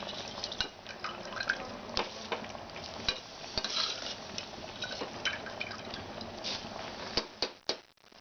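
Rice and chicken being gently stirred together in a pot for chicken pulao, with mint and coriander mixed in; soft scraping, stirring and moist bubbling sounds run steadily throughout, with a few sharper knocks near the end.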